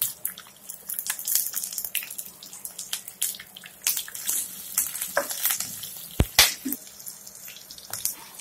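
Ginger crackles and sizzles in hot oil with cumin, fennel seeds, curry leaves and green chillies, a steady close frying hiss with sharp pops and occasional stirring clinks, no voices.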